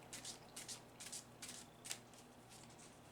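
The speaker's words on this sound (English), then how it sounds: "shuffle the cards." A deck of tarot cards is shuffled by hand, giving repeated soft riffling bursts in a quiet room with no speech.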